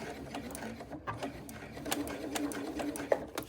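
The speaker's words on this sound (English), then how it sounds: "follow the edge, pivoting around, and then again sewing down this edge." A sewing machine stitches along the edge of a lining with a quiet, fast, steady whirring patter, slowing briefly when pivoting at a corner, heard close with faint ticks and no talking.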